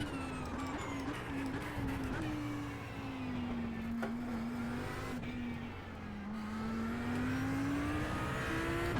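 An Audi R8 race car engine drones steadily at Spa in iRacing, its pitch dipping and climbing through corners over several seconds, with faint tire noise underneath.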